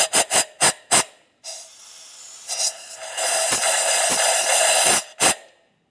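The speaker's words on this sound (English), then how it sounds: "continue on with some compressed air" Bursts of compressed air blast debris from around the spark plug wells of a 2004-2015 Nissan Titan engine, starting with four quick sharp puffs and then becoming a long loud continuous hiss that ends in one last short burst.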